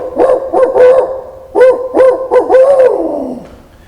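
A person imitates a barred owl's hooting call as used in turkey hunting, a loud, close series of rhythmic hoots in two phrases, the last one trailing off into a drawn-out descending note.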